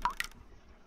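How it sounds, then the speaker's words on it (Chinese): Water drips in the Ib remake horror RPG, two quick, close, clear drip plinks in quick succession followed by quiet. "哇，这边滴水滴血了。"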